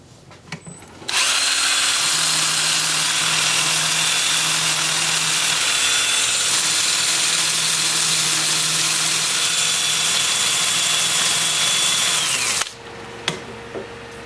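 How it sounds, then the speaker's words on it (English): A power sander with worn discs works over a wooden pine cone in a woodturning shop, a loud, steady whirring drone that starts abruptly, holds for about eleven seconds and cuts off, with faint knocks before and after. "I'll just hold them up here and sand this inside and out with those."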